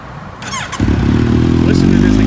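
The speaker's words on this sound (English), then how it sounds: "Let's fire her up." A 2019 Kawasaki Z900 ABS motorcycle with a loud aftermarket exhaust starts up: a brief starter whir, then the engine catches and settles into a deep, loud, steady idle rumble close by.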